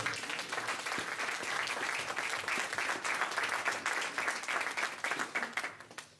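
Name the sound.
church congregation applauding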